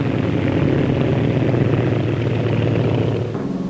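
Bristol 173 twin-rotor helicopter fitted with small stub wings flying at the Farnborough air show, a loud steady rotor and engine drone held close throughout, easing slightly at the end.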